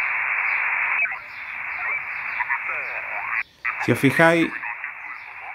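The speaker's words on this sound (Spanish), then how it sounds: "parece voz robotizada, luego apitufada. Esto es por las bandas laterales." Amateur radio single-sideband voice through the pRx TX Lite receiver app, a hissy, band-limited signal with a distorted, robotic-sounding transmission cutting in near the end while someone speaks Spanish over it.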